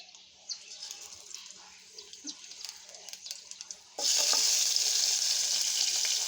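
Garlic and onion fry in a little oil for tomato masoor dal, quiet scattered crackles and stirring at first, then a sudden loud, steady sizzle once they hit the pan.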